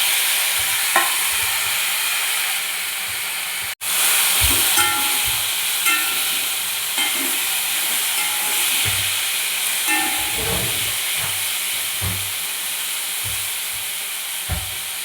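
Pre-cooked beef fries in a hot pan for a country-style beef fry, with a steady steamy hiss running throughout and scattered scraping, clattering stirring knocks, loud and close, after a brief cut near the start.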